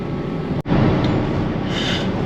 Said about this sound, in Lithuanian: Žiūrėkit, traukiniai ten viršui važiuoja, tramvajai.